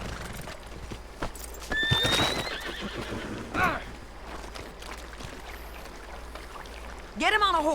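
Horse hooves clip-clopping and repeated whinnies and neighs in the Red Dead Redemption 2 video game, with scattered thumps and movement sounds at moderate volume, ending on a loud close neigh.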